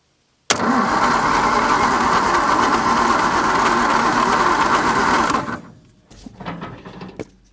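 A 1950 Nash engine that has sat for 23 years cranks on a 12-volt battery, a loud, steady, close churning drone lasting about five seconds before cutting off, followed by a couple of brief, weaker bursts.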